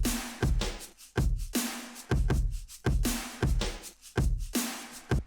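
A warped shaker loop rides over a punchy drum beat at about 130 BPM, with heavy kicks roughly every three quarters of a second and rattling shaker hits between, loud and close with no speech.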